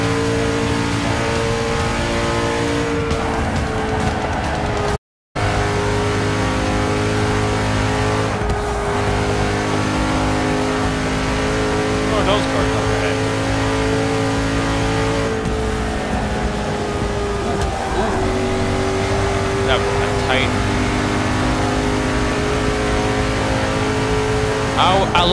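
Race car engines in Forza Motorsport 6 rev and drone loudly without a break, rising and falling as cars accelerate and pass, with a brief dropout near the start; people talk over the engines.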